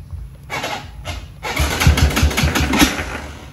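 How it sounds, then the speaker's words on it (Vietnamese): Honda Winner motorcycle with a noisy engine, cranked and started up close, with a couple of short starter bursts and then a loud, rough idle with knocking pulses. "Ok, nổ máy anh em nghe, xe này hơi kêu"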